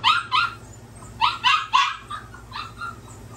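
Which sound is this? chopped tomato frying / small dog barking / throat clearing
small dog barking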